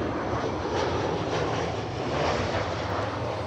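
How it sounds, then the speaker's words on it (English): An airplane flying overhead, a loud broadband engine roar that stays steady and close for the whole stretch, heard alone with no talking. "An airplane flew by."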